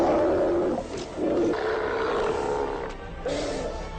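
Several loud, hoarse roars and barks from sea lions along the Atacama Desert shoreline, coming in repeated bursts with brief pauses between them.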